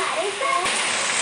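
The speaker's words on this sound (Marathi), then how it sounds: "गाईज बोलता बोलता तर पाऊस खूप मोठा आलेला आहे" Heavy rain pours down in a steady, dense hiss that fills the whole moment, with a voice speaking over it.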